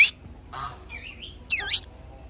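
A pet black swan gives a few short squawks and warbling calls, close by in a quiet room, in brief separate bursts.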